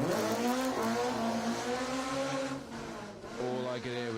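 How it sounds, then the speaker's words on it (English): A hard-charging BMW M3 rally car on an asphalt stage of the Manx Rally, its engine note holding steady then dropping and rising again through gear changes, heard from a moderate distance. "All I could hear was the hard charging M3 there."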